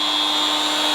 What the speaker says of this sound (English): Chainsaw sharpening.